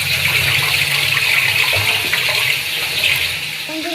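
Tap water runs steadily into a sink while fish is rinsed, a continuous near gushing splash with slight shifts as the flow is disturbed, no talking.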